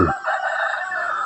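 A single short rooster crow rings out nearby at dawn in rural Lampang, Thailand, then fades away.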